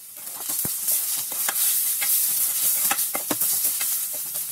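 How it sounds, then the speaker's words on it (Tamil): Ginger garlic paste sautéing in a pan for a hotel-style channa masala gravy: a steady, close sizzle and frying hiss, punctuated by repeated sharp scrapes and taps of a spoon stirring the paste. "இஞ்சி பூண்டோட பச்சை வாசம் போகிற அளவுக்கு இதை வதக்கி விட்டுக்கோங்க."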